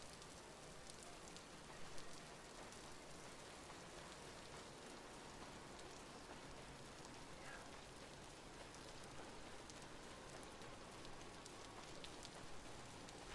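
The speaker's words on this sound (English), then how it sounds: "I got rain. It's raining and it's loud." Rain falls in the video game Vintage Story, a steady, even hiss of drops spreading across the whole stretch, soft and unbroken with no voices over it.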